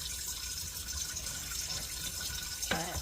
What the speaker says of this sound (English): In here, I'm gonna add me some water